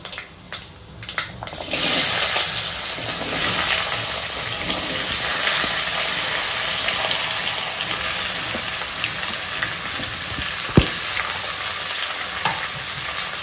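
Potato and onion frying together in a pan produce a loud, dense sizzle with stirring rustles, rising sharply after a quieter start and holding steady, with one sharp clink of a utensil near the end and no talking.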